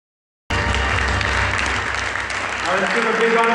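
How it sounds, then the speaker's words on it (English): Applause from an event audience at a Philippine tourism celebration, starting abruptly and holding as a loud, dense wash of clapping, with some voices and music mixed in toward the end. "Let's give a big round of applause for Tagir Tourism."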